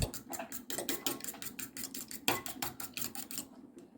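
A single egg whisked briskly in a separate bowl for egg curry, a rapid run of close metallic clinks and taps from utensil against the bowl, steady rhythm until it stops near the end.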